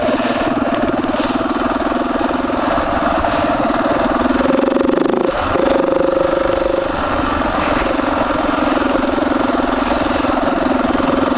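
A BMW GS motorcycle engine drones steadily and loudly while riding on rough trail in Montenegro, with a sustained mid-pitched tone and a brief whine rising and falling in the middle.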